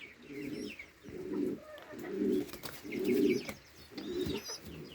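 Young pigeons in a dovecote give a run of five soft, rolling coos at a regular rhythm, close and fairly loud, with faint chirps and a brief wing flutter between them.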